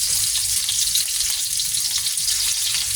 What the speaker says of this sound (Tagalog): Papa golden brown muna natin konti lang